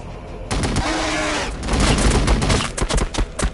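A loud barrage of massed gunfire and impacts erupts in the Warhammer 40k Battlesector strategy game, dense overlapping shots and booms filling the moment without any talk.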